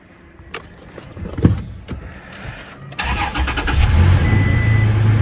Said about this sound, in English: Start it up, see what it sounds like.